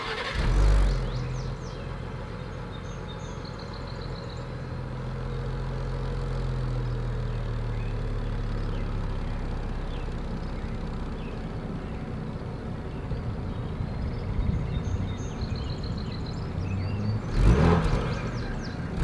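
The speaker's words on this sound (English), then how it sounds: "As always, here is that exhaust clip." A 2020 Ford Explorer ST's exhaust idles with a deep, steady rumble, swelling into brief revs near the start and again near the end, close by.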